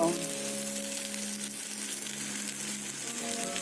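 Ground coconut and dal paste sizzling and frying in a pan for a curd-based curry, a steady hissing crackle throughout with faint tones at the start, no speech.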